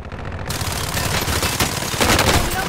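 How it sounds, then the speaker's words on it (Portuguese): Rapid automatic gunfire in the video game Call of Duty: Modern Warfare, a dense, loud continuous burst of shots lasting under three seconds, with no talk over it. "Tô levando tiro."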